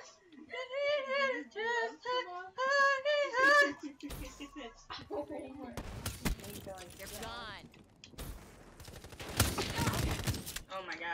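Rapid bursts of submachine gun fire crackle in a Call of Duty match, following a stretch of excited young voices talking.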